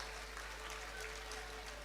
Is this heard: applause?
yes